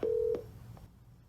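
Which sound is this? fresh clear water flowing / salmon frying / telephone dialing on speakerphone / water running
telephone dialing on speakerphone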